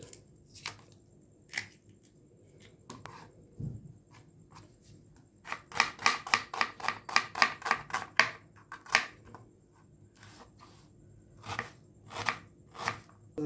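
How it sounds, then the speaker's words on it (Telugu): Onions being chopped finely with a knife on a board, heard as crisp, rapid, evenly spaced taps in a quick run that thins to scattered cuts at either end. The taps sound close and quiet, with no talking. "తర్వాత 4 ఉల్లిపాయలు సన్నగా కట్ చేసుకోవాలి."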